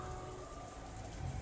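Rain pours steadily outside in the Umineko video game, a constant hiss of falling drops at even loudness, with no voices.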